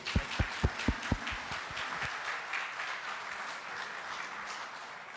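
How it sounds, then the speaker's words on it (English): An audience applauds after a talk at a pharmacy event, with loud clapping that settles into a steady wash of hands, close and with no speech over it. "with a big round of applause."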